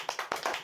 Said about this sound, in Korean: 인정하는 사람들은 모두 우리 한번 박수로 한번 자 인정한다